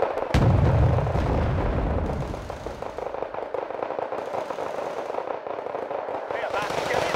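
Sustained burst of gunfire from a 160-round gung-ho burster in the game Wargame Red Dragon, a dense rolling rattle with a loud boom near the start, continuing steadily under a faint voice.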